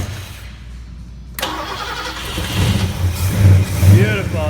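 A 1968 Lincoln Continental's aluminum-headed 460 V8 cranks and catches after a brief pause, then settles into a loud, lumpy rumble with a few throttle blips, close to the car.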